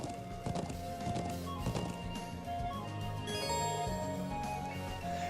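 Rhythmic horse hoofbeats clop along at a steady pace under a layered musical score in the video game Trails of Cold Steel, with no one speaking.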